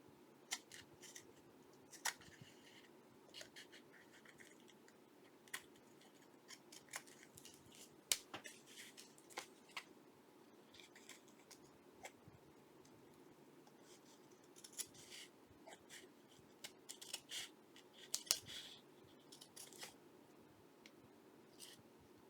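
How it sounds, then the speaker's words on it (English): Scissors trim paper for a handmade journal, producing faint, close snips and small rustles scattered irregularly across a quiet room, with several quicker clusters of cuts. "now I'm going to trim this off"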